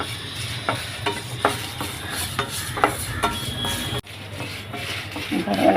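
Curry leaves and dried chillies dry-roasting in a pan for curry leaf powder, with dry scraping and stirring strokes against a steady low hiss, close and fairly loud, then a brief pause before the stirring resumes.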